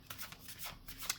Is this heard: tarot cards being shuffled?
yes